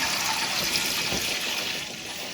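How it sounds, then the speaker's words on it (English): Welch's grape juice pours steadily into a pot, a continuous close gushing splash that gradually eases off near the end. "going to pour 64 ounces of the Welch's grape juice into the pot here"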